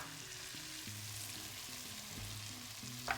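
Butter sizzles and fries steadily in a hot pan, with a dense, even crackle throughout and a brief louder spatter near the end.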